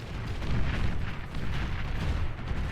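In the strategy game BAR, 2 pounder guns fire on tanks as a dense, continuous rumble of booming shots and impacts, loud and steady for the whole stretch.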